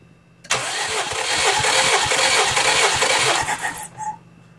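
A tractor engine on an EM21 under restoration is turned over, giving a loud, close, rhythmic cranking chug that runs for about three seconds before cutting out abruptly.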